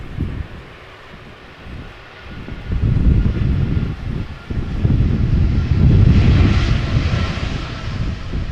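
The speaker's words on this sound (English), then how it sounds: "That should be an A319 from Air Serbia arriving from Belgrade." An Air Serbia Airbus A319 arriving from Belgrade on approach to Amsterdam Schiphol in a crosswind: a steady jet engine roar builds and holds loud and broad, mixed with rumbling wind noise across the microphone.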